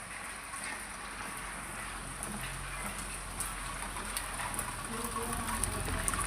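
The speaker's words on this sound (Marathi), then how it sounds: "बाहेर पाऊस चालू झाला आहे" Soft, steady patter of rain falling outside, fairly faint and continuous, with no talking.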